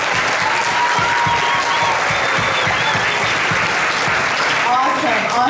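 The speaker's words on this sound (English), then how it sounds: "Let's practice now and applaud and thank our season sponsor" Dense, sustained applause from a theatre audience at a Matilda musical performance, loud and steady throughout, with a few faint voices mixed in near the end.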